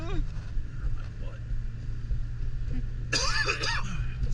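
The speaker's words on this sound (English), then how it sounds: "Smoker's cough." A man's rough smoker's cough bursts out harshly once midway through, after some brief muffled talk, with a low rumble of background noise underneath.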